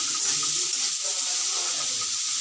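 A light drizzle of water falls steadily indoors, a continuous close bright hiss with no pauses and no voices.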